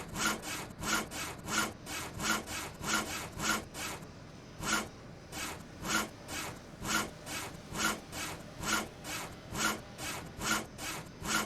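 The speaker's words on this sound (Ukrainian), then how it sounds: "Ми ще маємо розрізати дерево." A tree being sawn in the video game GTA 5, with rhythmic back-and-forth rasping strokes repeating steadily and evenly for several seconds, close and clear, with no speech.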